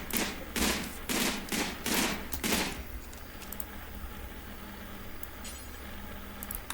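Gunfire from a winter battle against mechanoids in the video game Rimworld, a fast run of loud, evenly spaced shots that stops abruptly and leaves a low background hum with faint clicks.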